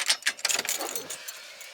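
Car keys jingle in a short, bright cluster of metallic clinks inside a Dodge Ram, a couple of quick shakes then a fading rattle, close and alone.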